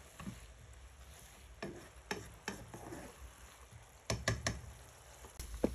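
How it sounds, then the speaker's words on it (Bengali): Yardlong beans are tossed into spices frying in a pan and stirred. Sharp scraping knocks from the spoon come in irregular bursts over a quiet sizzle, with no voices. "এই যে বরবটিগুলো দিয়ে দিচ্ছি"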